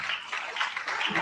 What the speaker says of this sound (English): Please a round of applause for the Vice Chancellor.